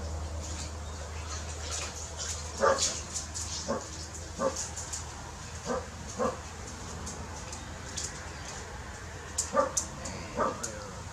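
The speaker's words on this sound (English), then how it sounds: "No barking." A dog barks repeatedly at a moderate distance, short yips spaced irregularly over a quiet background hum.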